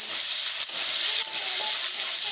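Onions frying in a pan with whole spices and green chilli are stirred with a utensil, a constant hissing sizzle broken by a couple of short scrapes, close and with no speech.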